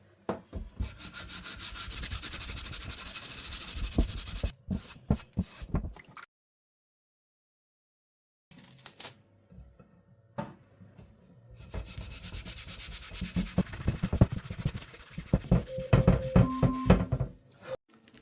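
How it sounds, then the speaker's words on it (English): An abrasive sponge scrubs hard at a burnt frying pan, rough rasping strokes in fast rhythmic bursts, close up, broken by a pause of silence before the scrubbing resumes, with no speech. "That was a lot of scrubbing"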